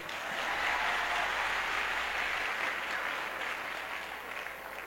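A large crowd at a prayer conference gives sustained, dense applause that stays steady throughout and fades slightly toward the end.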